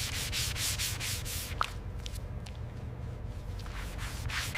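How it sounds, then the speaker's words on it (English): Rhythmic rubbing strokes of wet sanding on car paint of a 2026 Rolls-Royce Droptail, repeated back-and-forth passes with a low background hum. "Wet sanding removes microscopic surface texture."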